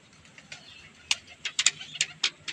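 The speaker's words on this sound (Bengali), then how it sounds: "এই দেখুন পায়রাগুলো কত সুন্দরভাবে আর কি চলাচল করছে" Young domestic pigeons shuffle and move about, making a scattered series of sharp, faint taps and clicks at irregular intervals over a quiet background.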